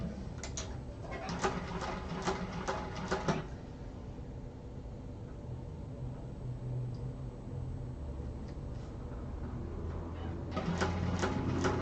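A sewing machine running during a sewing class makes an odd, off-sounding mechanical noise, with a steady whir and rattling bursts near at hand and rhythmic clicking at the start and end.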